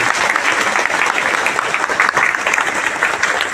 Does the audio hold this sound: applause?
yes